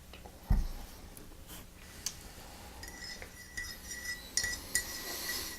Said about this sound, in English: I'm going to over stir it to not get a clump